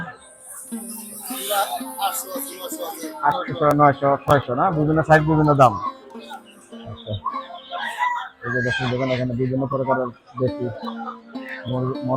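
Farm chickens cluck and crow amid a busy poultry market in Fatulla, several birds calling in bursts beneath men bargaining loudly close by.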